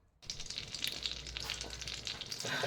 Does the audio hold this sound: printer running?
no